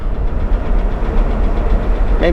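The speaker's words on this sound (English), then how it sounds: "She does develop a little bit of a clicking noise as you drive when it gets warmed up" A warmed-up 1962 AMC Rambler's engine drones with a fast, steady ticking clatter layered over its low rumble, heard close and loud throughout.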